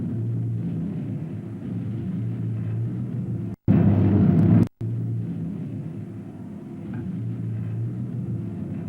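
An armoured vehicle engine rumbles low and steady, then surges louder for about a second in a brief burst before settling back to its deep drone, with no one talking.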